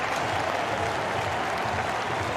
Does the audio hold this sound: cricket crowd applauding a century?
yes